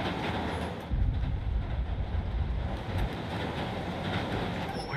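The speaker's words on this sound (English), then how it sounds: "Tapping into the train system should help me follow the train's path." A subway train rumbles along its track in the Spider-Man Remastered video game, a loud continuous roar with a heavier surge near the start and faint wheel squeals.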